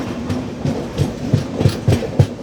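Rhythmic clickety-clack of the Trivandrum Rajdhani Express's wheels over rail joints, evenly spaced thumps under a low rumble as the train rolls into Karwar station.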